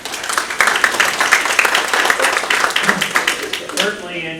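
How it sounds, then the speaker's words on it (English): An audience at an all-staff company meeting applauds, producing a dense, steady patter of clapping that holds for several seconds and then tapers off near the end. "By applause. By applause."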